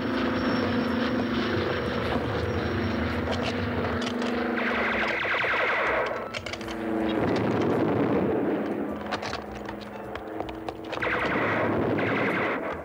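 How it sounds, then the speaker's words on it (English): Continuous rumbling roar of aircraft engines with dense, thudding explosions and gunshots layered throughout, loud and unbroken like a battle soundtrack, from a 1981 zombie film's war scene. "We hear airplane sounds, explosions, gunshots"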